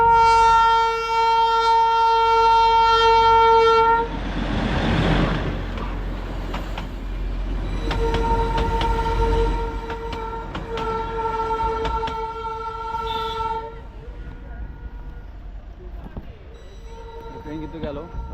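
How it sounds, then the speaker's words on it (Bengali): A train passes near a sightseeing spot in Darjeeling, announced by a long sustained horn blast, then rumbling by close up with further horn bursts; people talk nearby. "তো আমরা আসতেছে, ট্রেন আসতেছে, দাঁড়ান।"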